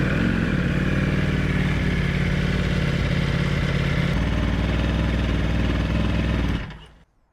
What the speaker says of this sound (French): Et on va démarrer le moteur parce que